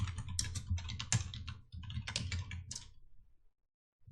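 Rapid typing on a computer keyboard while entering spreadsheet data, a quick run of crisp key clicks with short pauses, close and fairly quiet, stopping about half a second before the end.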